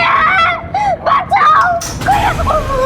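A voice rises in repeated strained screams and cries in short bursts, close and loud, with moments of distressed vocalizing between them.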